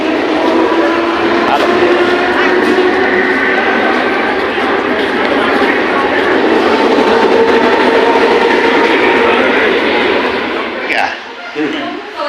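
A train passing at Nalasopara station, a loud steady rumble and rattling roar of rail cars close by that holds for several seconds before easing off, with voices mixed into the din.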